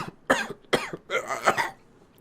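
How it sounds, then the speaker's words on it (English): A person coughs harshly in a DayZ Standalone roleplay scene, several rough bursts in quick succession with a throat-clearing edge, close and alone without speech. "it's a nasty cough you've got there"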